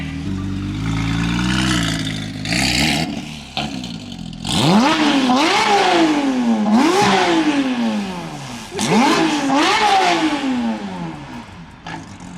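A straight-piped Porsche 992 GT3 RS engine revs hard in repeated rising sweeps, each climbing to a shrill peak and dropping back, loud and close throughout with a brief lull between pulls.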